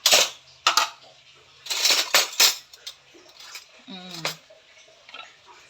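A plate is taken from a stack of dishes indoors, with close, sharp ceramic clinks and clatters in a few bursts, then quieter scrapes, with a voice speaking briefly near the end.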